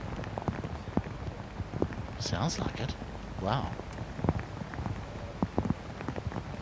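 Hail thudding on outdoor microphones at a golf tournament in Scotland, a dense steady patter of small hits with a few louder knocks, while people talk over it.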